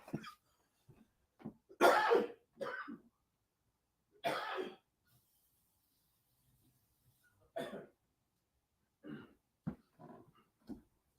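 A person coughs and clears their throat several times in short bursts, with quiet pauses between.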